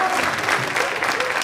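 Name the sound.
applause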